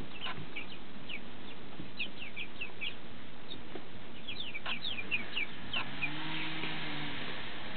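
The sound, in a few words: French Black Copper Marans chicks clucking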